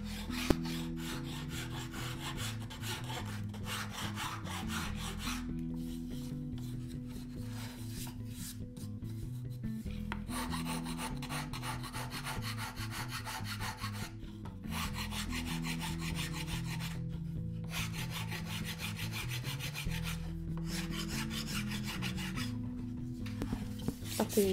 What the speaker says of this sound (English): on the one of the long edges, I really rounded it with the file